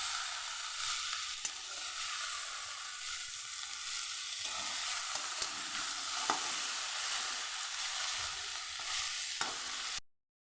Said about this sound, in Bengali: এদিকে গ্যাসে দেখো তরকারিটা বসে দিয়েছি